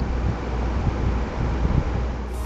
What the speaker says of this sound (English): Yeah, and the wind